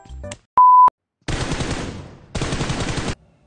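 Automatic gunfire in the video game PUBG: a short electronic beep, then two loud, sustained bursts of rapid shots with a brief pause between them.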